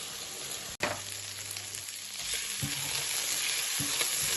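Chicken stir-fry with onion and fine egg noodles sizzling in a hot pan, a sharp click followed by a steady, loud frying hiss and repeated scraping stirs of a utensil, close up.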